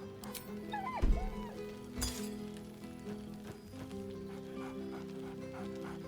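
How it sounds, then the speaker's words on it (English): A dog barks merrily in the Baldur's Gate 3 video game, a few bright yips rising over a busy game soundscape with clinks and background music, fairly close and moderately loud. "Scratch barks merrily in something like agreement."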